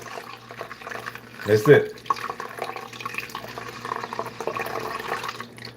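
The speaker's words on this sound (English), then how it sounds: "we're gonna put this beetroot water in the rice and cook the rice in this beetroot water" Beetroot water is poured into a pot of rice for cooking, a short burst of liquid filling that then settles into soft dripping while a person talks.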